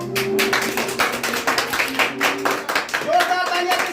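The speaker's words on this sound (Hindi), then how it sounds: "जोरदार तालियां" A studio audience at a Constitution Day quiz show claps for a correct answer, a short burst of quick, close, overlapping handclaps with voices mixed in.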